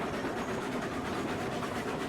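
A freight train in the video game Railroads Online hauls ten cars of lumber uphill toward an iron mine, making a steady, dense rolling rumble with faint clatter that stays even and unbroken throughout.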